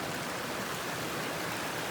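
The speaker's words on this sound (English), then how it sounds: "Check out this brook." A brook flows outdoors with a steady, even rush of water, close and continuous, with no voices over it.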